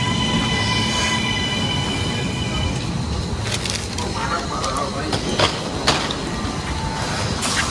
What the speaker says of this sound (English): Getting on the train.